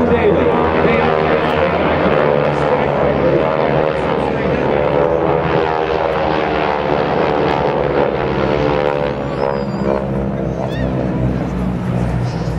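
GEICO Skytypers propeller aircraft fly in formation at an air show, a loud continuous droning engine roar filling the whole stretch while an announcer talks over it.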